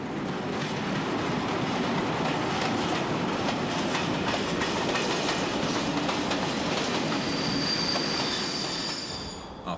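A train, likely a freight train, rolls steadily along a rail line in Austria, with loud continuous wheel rumble, rhythmic clickety-clack and squealing wheels, then easing off at the end.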